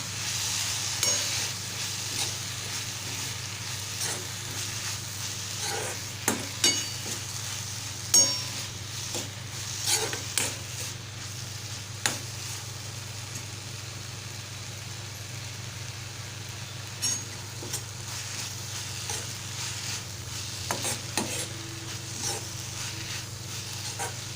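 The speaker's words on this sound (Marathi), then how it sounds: "आता आपण सुका जोला घालणार आहोत आता असं दोन मिनटं परतून घेणार आहोत" Dried jowla shrimp sautéed in a pan give a low continuous sizzle under a steady hum, with occasional clangs and scrapes of a spatula stirring against the metal.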